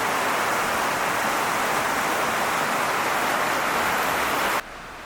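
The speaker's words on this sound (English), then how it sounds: "We're just waiting for the rainstorm to pass" A tropical rainstorm pours down in Jaco, Costa Rica, a dense, loud, even hiss of rain that holds steady and then cuts off abruptly.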